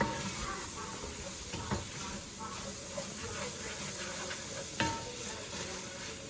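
Ingredients for a Bolognese sauce are stirred in a hot pan over medium-high heat, a steady close sizzle and hiss with scraping spoon strokes and a few sharper knocks against the pan.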